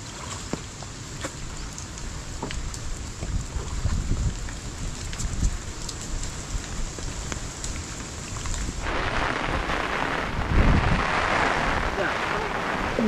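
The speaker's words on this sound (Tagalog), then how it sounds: "Ayun na po ang malakas na ulan." Heavy rain pours down beside a river, a steady broadband hiss that swells louder and denser in the last few seconds, with faint voices and some low rumbling underneath.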